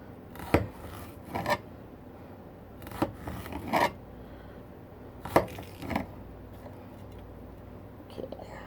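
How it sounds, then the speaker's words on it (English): A knife chops through an onion on a board in a home kitchen, giving sharp, separate cuts at uneven intervals under a low room hum. Soft whispery noise sits between the cuts. "now we have our onion in more manageable things. And we're just going to cut like this."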